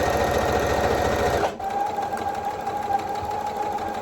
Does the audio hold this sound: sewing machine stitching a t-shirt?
yes